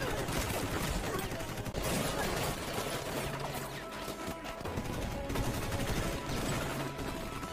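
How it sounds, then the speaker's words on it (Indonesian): Intense gunfire in a film battle scene at a prison island barracks, with dense continuous bursts and crashes filling the whole stretch, loud and chaotic with little pause. "terjadi baku tembak yang sangat sengit"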